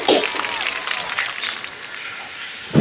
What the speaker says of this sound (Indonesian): narasumber kita, Syahril Arifin, dengan tepuk tangan.